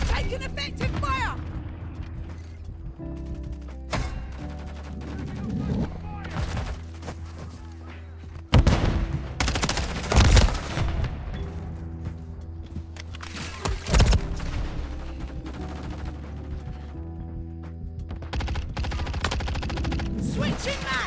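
Dense automatic gunfire and loud blasts from Call of Duty: Modern Warfare 3 multiplayer, bursting steadily and close, with radio-style in-game voice callouts over the shooting.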